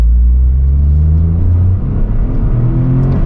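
A 2023 Toyota GR Corolla's engine revving hard at high revs while climbing uphill, a loud, close, sustained roar with rising and shifting pitch and no voices.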